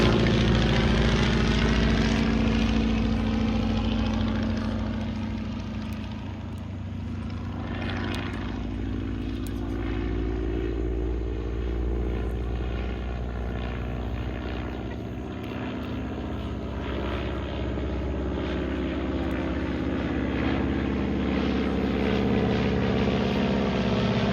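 A Stearman PT-17 open-cockpit biplane drones steadily overhead with its radial propeller engine at an aviation heritage weekend, a loud continuous roar that swells and eases slightly as it turns.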